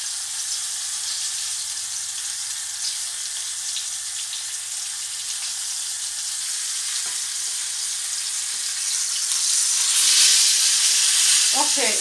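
Fish pieces brown in a pan with a little butter or oil, giving off a steady, moderate sizzling hiss that grows slightly louder and more crackly toward the end, with a faint clink or two.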